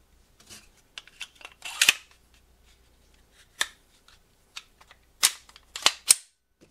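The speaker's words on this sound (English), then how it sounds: "Comes apart real quick. No tools required to field strip it." A Walther P99 .40 caliber QA third-generation pistol is field stripped and reassembled by hand, giving sharp metallic clicks and slide snaps, scattered and close, with small rattles between them and no talk.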